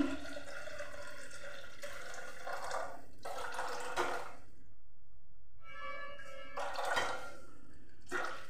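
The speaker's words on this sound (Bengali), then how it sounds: "এখানে আমি দিয়ে দিচ্ছি পরিমাণ মতো জল" Water is poured into a cooking pot in several close bursts of splashing, ahead of boiling jackfruit seeds with salt and turmeric, broken by short gaps.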